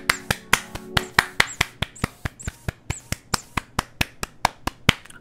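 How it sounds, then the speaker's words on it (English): A steady series of sharp, evenly spaced claps in the video game Maize, about four per second, crisp and close, like a single pair of hands applauding. "Pause for applause."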